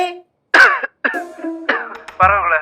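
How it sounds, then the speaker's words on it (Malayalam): A man coughs several times in quick, harsh bursts, loud and close, with short throaty gaps between them. "വയ്യടെ ഭയങ്കര ചുമ"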